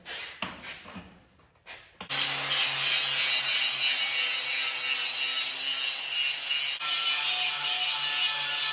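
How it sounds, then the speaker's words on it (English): Metal axle and frame being cleaned up before welding, a loud continuous abrasive grinding or sanding that starts abruptly after a couple of seconds of quieter handling and runs steadily to the end. "clean up the axle and the frame so we can properly weld to them"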